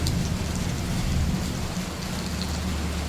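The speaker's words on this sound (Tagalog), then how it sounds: "Ulan na naman." Steady, dense southwest monsoon rainfall in Rizal, Philippines, hissing continuously, with a low rumble underneath and no voices.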